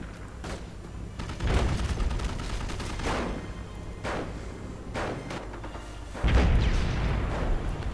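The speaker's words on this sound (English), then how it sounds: "And the artillery keeps firing as well." Artillery fire in a 2v2 online war strategy game with British and German forces: repeated loud booming shots and rumbling impacts in an irregular sequence, with a heavier blast near the end over a steady battlefield din.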